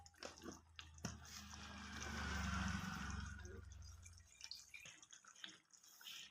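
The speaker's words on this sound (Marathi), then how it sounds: "याच्यामध्ये मी आणखी अर्धा ग्लास पाणी टाकणार आहे।" Half a glass of water is poured into a simmering potato and eggplant vegetable curry, giving a steady splashing gush for about three seconds between fainter clinks and drips.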